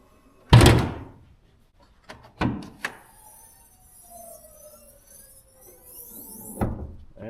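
A loud metallic thunk as the hood of an MK8 Golf R with a Racingline hood strut closes, followed by lighter knocks and clatter, quiet ringing, and a final thump.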